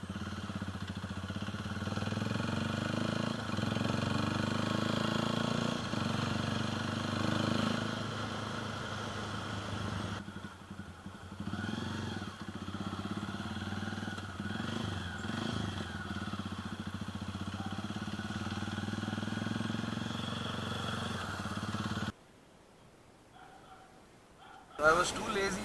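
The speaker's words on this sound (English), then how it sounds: "take a little spin on the motorcycle" A custom motorcycle engine runs steadily through a ride, a loud continuous mid-range drone with clattery vibration, briefly dropping near the end before revving back up.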